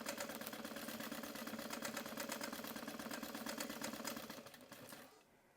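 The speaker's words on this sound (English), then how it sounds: "I'm just going to kind of do some reinforcement stitches over those pleats by back stitching as I go" A sewing machine runs in a fast, steady rhythmic chatter while back stitching reinforcement stitches over pleats on a rolltop backpack, then slows and stops at the end.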